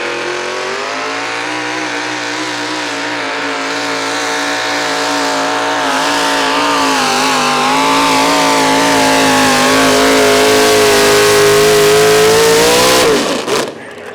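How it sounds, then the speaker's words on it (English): A pulling tractor, a Model T with a big Chevy 468 cubic inch engine at a Prairie Pulling League fair pull, roars loud and close, its revs climbing steadily before cutting off abruptly near the end. "little Model T with a big Chevy 468 cubic inch"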